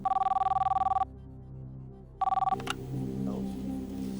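Telephone ringing as a call is placed on a TV quiz show: two bursts of a steady electronic double-tone ring, a pause of silence between them, then the line opens into room noise.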